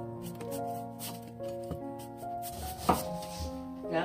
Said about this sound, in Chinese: 把这个冬瓜去一下皮